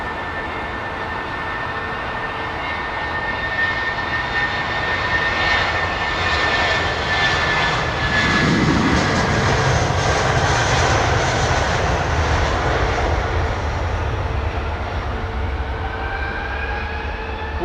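At London Heathrow Airport, airliner engines roar in a loud, continuous drone with a high whine, swelling as the jet passes close and then easing off slowly.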